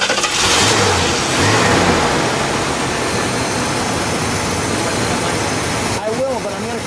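A 1969 Ford Thunderbird 429 cubic-inch V8 engine roars to life and revs, holding a loud, rough throb; a brief tonal sweep near the end, with no clear speech.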